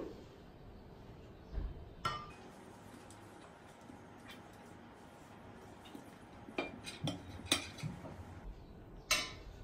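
Béchamel sauce spooned onto the bottom of a cooking pan, scattered soft clinks and scrapes of a spoon against the pan, close but quiet over a low background hum.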